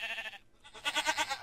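A goat in Minecraft with the Mo Creatures mod gives a loud, close, wavering bleat, broken by a brief gap in the middle.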